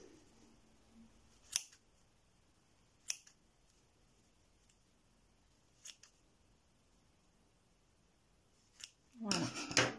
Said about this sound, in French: Après, on va venir couper les boucles.